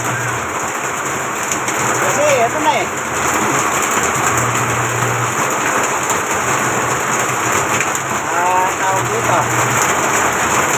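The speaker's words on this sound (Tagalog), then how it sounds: "Naliligo na ako sa ulan." Steady rain pours down outdoors, a dense continuous hiss of drops hitting surfaces, while someone talks briefly and birds call faintly in the background.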